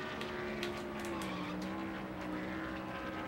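Race car engines drone steadily at high revs in the NASCAR Thunder 2003 video game, a sustained buzzing whine with slight pitch shifts as cars run in traffic, with no talk.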